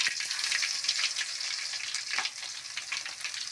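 Cumin and crushed garlic sizzle in hot oil for a prawn and drumstick curry, a steady close crackle with small spitting pops throughout.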